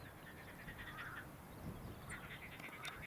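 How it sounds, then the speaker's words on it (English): Distant Hungarian marsh frogs croak in scattered bursts across a steady outdoor hiss, faint and somewhat far away, with no voices, on an overcast walk near Faversham. "There are some Hungarian marsh frogs ahead of me, if you listen now."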